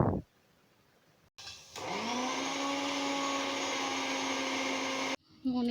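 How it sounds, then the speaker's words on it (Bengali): A blender or electric grinder whirs loudly and steadily for several seconds while grinding poppy seeds into a paste, starting with a brief rising spin-up and cutting off abruptly, with a short burst of sound just after. "আর আমি এখন এখানে পোস্তটা বেটে নিচ্ছি"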